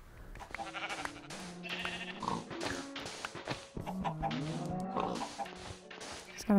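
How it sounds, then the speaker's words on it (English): Sheep in the Minecraft video game bleat over and over, many overlapping calls crowding together at close range, with other livestock noises mixed in. "all the sheep are congregating around the door"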